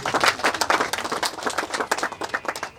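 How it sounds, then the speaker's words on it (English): An audience at a university project commissioning gives a round of applause for an alumni association, with distinct, fairly close claps in an uneven rhythm that thin out toward the end. "Let's give them a round of applause."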